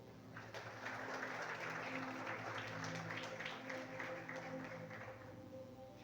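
A church congregation applauds at a festive worship service, steady dense clapping sustained throughout, with sustained organ or keyboard tones underneath.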